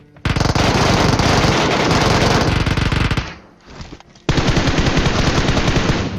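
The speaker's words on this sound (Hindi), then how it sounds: "एट द एंड मैंने जल्दी से गन स्विच करी और ये वाले बंदे को भी मार देता हूँ" Loud, continuous rapid gunfire in a video game battle, an unbroken automatic stream that drops away briefly during a gun switch, then resumes at full intensity.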